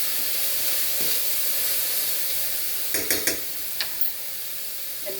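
Two minced garlic cloves sizzle in a pan as a steady, bright hiss of frying, broken near the end by a few clicks and scrapes of stirring, with no one speaking.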